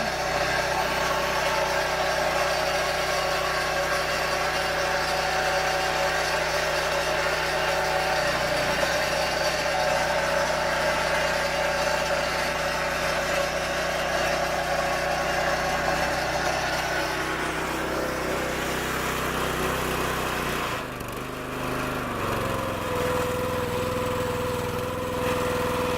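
A wood splitter's small engine runs at a constant loud drone with steady rattling and vibration, holding a sustained hum for the whole stretch with a brief dip and shift in pitch near the end.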